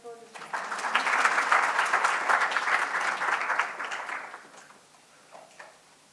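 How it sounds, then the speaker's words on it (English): At a biotech and energy research symposium, the audience applauds a presenter. The clapping swells quickly, holds for a few seconds, then fades to scattered claps and near quiet. "If you can just give a round of applause."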